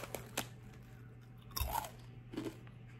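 Crisp crunching and chewing of American potato chips, close and quiet, with a few bites and mouth sounds spread across a few seconds and no talk.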